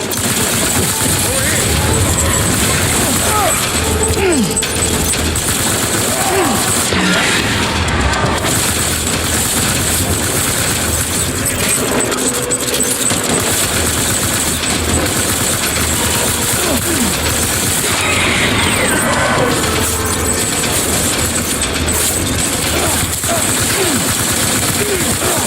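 Sustained gunfire in Death Stranding, rapid automatic bursts and shots layered over a constant loud roar of engine and combat noise throughout, with voices occasionally speaking underneath.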